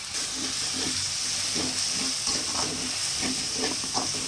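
Curry leaves and aromatics sautéing in oil in a pan for a home-style Tamil egg curry, a steady close sizzle and hiss with occasional scraping stirs, no voices.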